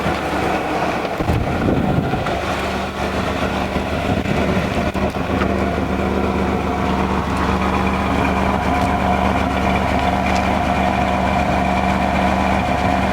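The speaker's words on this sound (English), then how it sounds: "Sounds like it's got a V8 under the hood." Loud, steady idle of a 1994 Chevy Astro van's big engine, a continuous low rumble with rough exhaust throb that stays even throughout.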